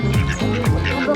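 Ducks quack in a few quick, honking calls close by at a child's first birthday gathering outdoors, with voices mixed in.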